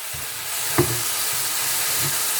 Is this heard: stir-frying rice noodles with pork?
yes